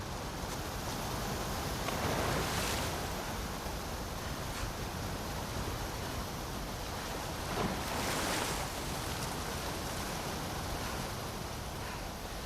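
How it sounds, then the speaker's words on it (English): A fast-flowing torrent of water in The Last of Us Part II rushes in a dense, steady roar with slow surges, loud and continuous, with no voices over it. "the player was faced with a fast-flowing torrent of water they couldn't cross"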